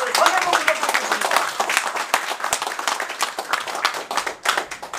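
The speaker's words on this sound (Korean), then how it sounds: "뜨거운 감사의 박수를 다시 한번 부탁드리겠습니다" A lecture hall audience applauds warmly after a talk on Korean politics by a former provincial governor: dense, steady clapping of many hands fills the room for the whole stretch, loud and close.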